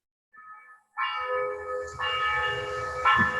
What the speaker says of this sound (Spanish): Se escucha la campana. Un campaneo, sí. La campana de la iglesia también.